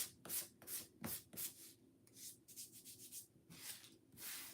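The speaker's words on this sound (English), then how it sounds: "we're just going to lightly sand all the things" Sandpaper lightly sanding painted wooden Christmas tags by hand: a series of close, dry rubbing strokes in an uneven rhythm, some short and sharp, others longer, with no talking.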